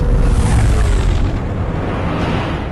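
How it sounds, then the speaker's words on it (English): Enemy Atlanta-class warship firing turbolasers and missiles in Star Wars: The Old Republic, a loud dense rumbling barrage of deep booms and blasts that swells at the start and then holds steady without a break. "Enemy is firing. Turbo lasers, missiles, and what looks like transport pods."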